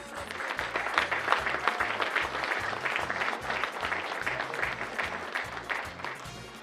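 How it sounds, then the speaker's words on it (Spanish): Steady audience applause at a North Shore Latinos Business Association gathering, dense clapping from many hands that swells and holds for several seconds, moderately distant, with faint crowd murmur and low rhythmic thumping beneath. "gracias por ese inmerecido aplauso"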